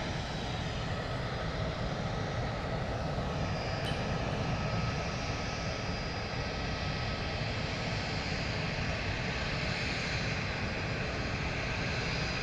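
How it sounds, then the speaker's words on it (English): An EasyJet Airbus A319 is pushed back from the gate at London Luton Airport, with a continuous broadband aircraft engine roar heard from a distance, steady and unbroken throughout. "let's have a quick little look at this A319 being pushed back from the gate there"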